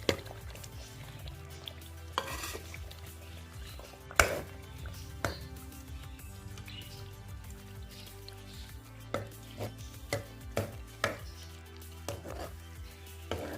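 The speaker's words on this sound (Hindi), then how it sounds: "थोड़ी देर हम कलेजी को भुनेंगे" Chicken liver browning in oil-separated masala in a pan, a low steady sizzle beneath scattered sharp clinks and scrapes of a spoon stirring, with no talk.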